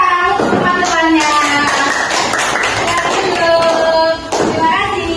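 Students in an Indonesian primary classroom clap for their classmates after a lesson on breathing organs, a short burst of applause mixed with children's voices and classroom chatter.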